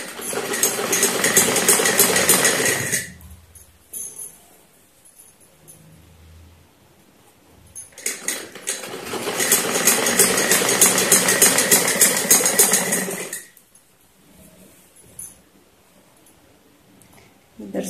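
A sewing machine stitching a salwar runs in two loud, fast whirring bursts of a few seconds each, close up, separated by quiet pauses.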